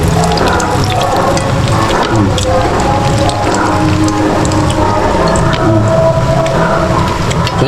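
Heavy rain pours down on a flooded Christmas evening as water enters homes, a dense, loud, constant roar of drops on surfaces with faint voices murmuring underneath.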